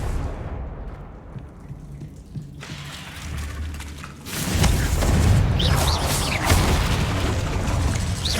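Confringo, a fire-blast spell in the Hogwarts Legacy video game, goes off: mechanical creaks and rumbling lead into a sudden loud, roaring boom that keeps crackling and churning to the end.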